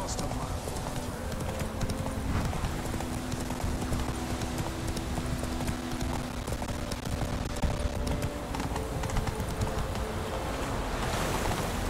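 Hooves clip-clop at a steady trotting rhythm on a horse in the video game Witcher 3, set against a constant background of wind and water-like ambience.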